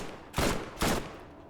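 Two heavy gunshots from the Borderlands video game, booming blasts about half a second apart over a constant noisy game background, loud and close.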